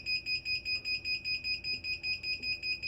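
A heat press on its first use gives a steady electronic beeping, a quick rhythmic pulse of high tones repeating about four times a second and running without a break.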